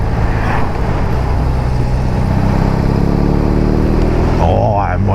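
A BMW R18 Roctane cruiser motorcycle runs while being ridden, its big boxer engine giving a loud, steady low rumble mixed with wind noise, and a rider talks over it near the end.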